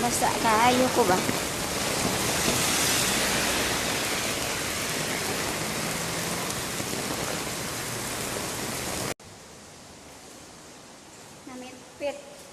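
Heavy storm rain with wind roars as a dense, steady wash that fills most of the stretch, then drops away abruptly to a quieter patter near the end, with a voice speaking briefly under it.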